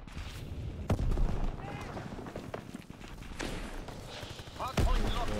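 Gunfire in Call of Duty WW2 rings out as a few sharp shots spread across several seconds, heard over a busy mix of game sounds while a player speaks.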